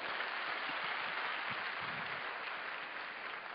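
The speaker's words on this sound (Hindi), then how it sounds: "वेलकम कीजिए एक बढ़िया ताली" A large audience at an Amway business event claps steadily to welcome a speaker, a thick wash of applause that stays even and loud, sounding distant and roomy.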